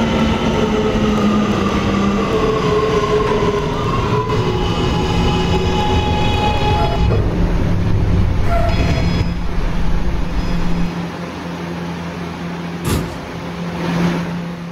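An R211A New York subway E train rolls along at steady speed, a loud continuous rumble of wheels and car noise with squealing tones that fade near the end as the ride settles.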